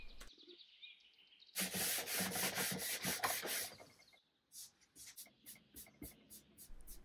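Wood veneer on a restored table is sanded by hand, with quiet rubbing strokes at first, then a louder stretch of rapid back-and-forth scratching, followed by shorter, choppier passes, all close up and with no voices.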